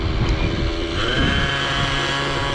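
Nitro engine of a SAB Goblin Raw 700 RC helicopter running steadily at low head speed, a loud continuous buzzing drone with a slightly pulsing character and wind rush, close and alone without voices.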